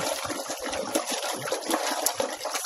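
Water poured for a farm animal in a slightly dirty stall during winter chores: a continuous close splashing gush with small clinks and bumps, heard without talk.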